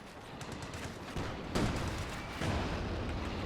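A steady rumble of battle in a World War II real-time strategy match, with an anti-tank gun firing at a Stuart light tank. Muffled thumps and gunfire sit in the distance under a constant wash of noise, and no one speaks.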